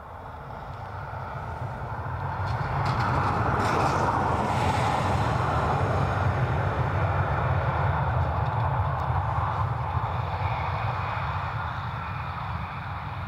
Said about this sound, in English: What you're hearing overhead is an Aero Mexico Dreamliner, I believe.